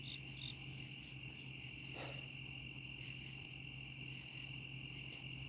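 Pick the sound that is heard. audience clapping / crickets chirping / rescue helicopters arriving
crickets chirping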